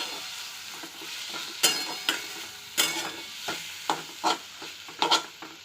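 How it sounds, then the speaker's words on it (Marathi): Grated sweet potato is stir-fried in a pan, giving soft continuous sizzling broken by repeated sharp scraping strokes of a spatula at an irregular rhythm, fairly quiet and with no talking. "त्याच्यामध्ये आता लगेच आपण हा किस घालून घेऊ. याला छान परतून घेऊया."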